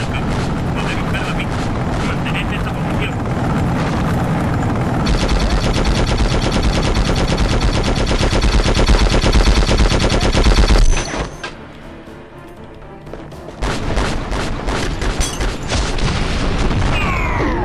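Rapid machine-gun bursts and heavy booms from Conflict: Desert Storm 2 fill the mix almost nonstop, briefly dropping out before the firing resumes, with a voice talking over parts of it.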